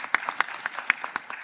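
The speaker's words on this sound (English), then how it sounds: "A round of applause, please." Light applause at an Indonesian sustainable energy conference as guests are called to the stage, a sparse set of separate claps from a small audience at moderate distance, with no talking.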